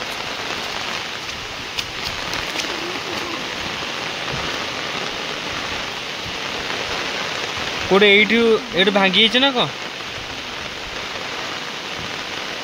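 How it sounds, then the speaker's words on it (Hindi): Heavy rain falls steadily, a dense continuous hiss of downpour, while a voice speaks briefly partway through. "देखो पूरा वर्षा हो वर्षा आसपर"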